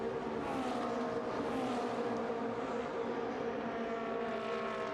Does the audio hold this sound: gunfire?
no